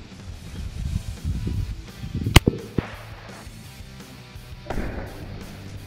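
A single loud crack from a Ruger American .30-06 rifle fired outdoors at a hedge apple, followed by a short echo and quieter rustling.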